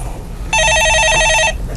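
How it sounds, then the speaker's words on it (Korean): A telephone rings once in a studio taking stock-market call-in questions, a loud, bright electronic trill lasting about a second over faint background hiss. "예, 전화 받아보겠습니다."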